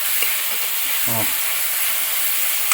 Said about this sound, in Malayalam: നന്നായിട്ടൊന്ന് ഇളക്കി കൊടുക്കും.